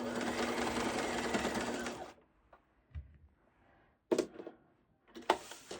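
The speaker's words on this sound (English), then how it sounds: "I'm going to actually sew this down first. Just stitch this in place." A sewing machine stitches lining in place with a fast, steady whirring run for about two seconds, then stops; faint clicks and handling knocks follow, with brief bursts of sound near the end.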